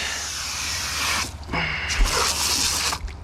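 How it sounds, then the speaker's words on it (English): Water sprays in hissing bursts to rinse sand out of bass boat carpet, starting and stopping, with a brief pause partway through. "All this sand and stuff that's in here, I'm just going to spray it out."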